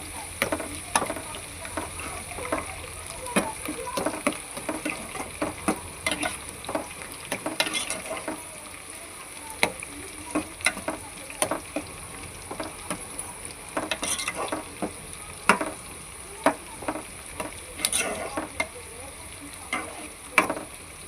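Green chillies fry in a pan for a tomato egg curry, a steady sizzle broken by frequent sharp pops and spatula stirs, close and fairly loud, with no talking.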